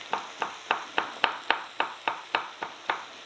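Chopped vegetables with peppers such as peperoni or jalapeño are stirred in a hot frying pan, making a regular series of about a dozen sharp scraping strokes over a soft sizzle, close and moderately quiet, with no voices.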